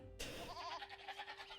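Sheep in the strategy game Age of Empires II give a single clear, wavering bleat that starts abruptly and lingers with a trembling vibrato, heard alone and close.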